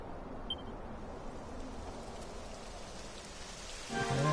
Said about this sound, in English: And it's raining. Typical. It would have to go and start raining, wouldn't it?